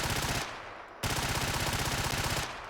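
Suppressed HK MP7A2 submachine gun fired in the game Fallout 4, two rapid sustained automatic bursts of muffled, evenly spaced shots split by a brief pause, close and alone.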